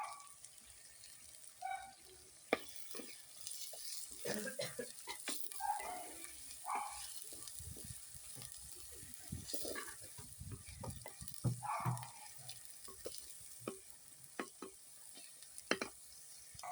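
Tomato, onion and ginger-garlic paste are stirred and fried in a clay pot over a wood fire in a village kitchen, with soft sizzling broken by scraping strokes and irregular knocks of the spoon nearby, no speech.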